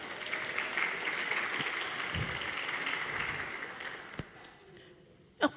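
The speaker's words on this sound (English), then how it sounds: "Man, let's clap it up." An audience at a Gen Z voter education event claps steadily after a call-and-response chant, a dense wash of applause that tapers off, ending with a couple of sharp handling knocks.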